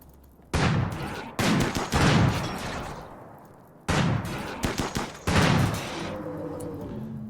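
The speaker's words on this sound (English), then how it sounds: "Cheeky little Inferno Launcher," Inferno Launcher firing in the RimWorld game, rapid rattling volleys of shots in several loud bursts separated by brief gaps, with no talk.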